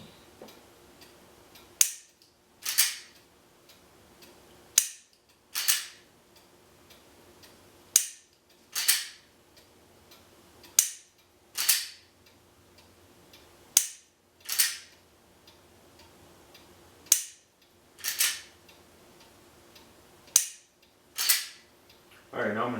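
Trigger clicks and snaps from dry-fire practice at a LaserLyte laser target come in regular pairs, about a dozen sharp, close clicks spaced a second or two apart over quiet room tone.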